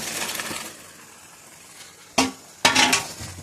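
Marinated chicken for a fennel chicken dish dropped into a hot pan, sudden loud sizzling bursts with clattering after a quieter stretch of low frying hiss.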